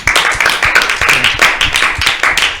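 A small audience claps together in a lively, uneven patter of hand claps, close and fairly loud, lasting a few seconds.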